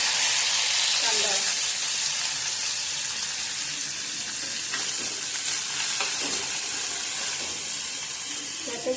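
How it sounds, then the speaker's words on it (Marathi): Onion, garlic, green chili, cumin and chopped tomato sauté in hot oil, a continuous close sizzle with occasional scraping stirs of a spatula against the pan. "हे सर्व घालून 1 मिनिट चांगलं मस्त होईपर्यंत तेलात परतून घ्यायचं आहे"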